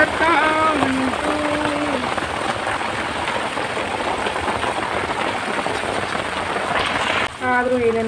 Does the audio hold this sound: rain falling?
yes